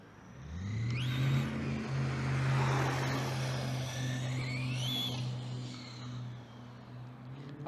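A Traxxas Drag Slash 3S RC car speeding down a straight, its electric motor whining up sharply in pitch, holding a steady buzzing drone, then rising again on a second burst of throttle, moderately close with no talking.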